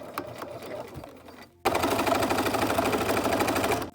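After a moment of quieter handling sounds, a sewing machine with a zipper foot suddenly starts up and runs in a fast, steady, loud rattle, stitching a pants seam.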